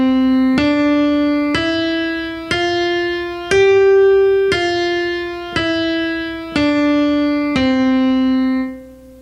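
A right-hand piano finger pattern for the Song of Joy, played as about nine single sustained notes at a slow, even pace, each struck clearly and left to ring, alone and close.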